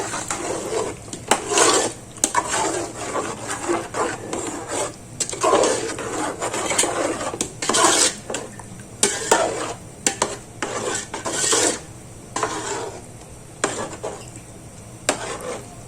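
Chicken and yogurt being stirred in a kadhai, a spoon scraping and rasping against the metal pan in repeated strokes over a low sizzle, close and clear with no talking.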